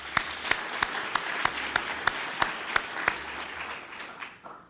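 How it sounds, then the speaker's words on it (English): Audience at a city State of the City address in Cupertino applauding, a dense wash of clapping with distinct louder claps in a loose rhythm, trailing off near the end. "Round of applause for them, please."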